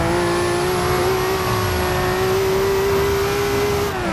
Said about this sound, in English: Just go cruising down the highway in a 1000 horsepower Supra.